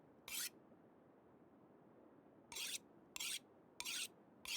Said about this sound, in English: Should have been sharpening this a long time ago.